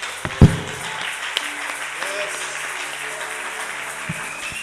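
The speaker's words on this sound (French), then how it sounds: "Est-ce qu'on peut acclamer, célébrer cette grâce vivante?" A church congregation in Kinshasa applauding and cheering during a worship service, a steady wash of clapping and crowd noise, with a sharp thump near the start.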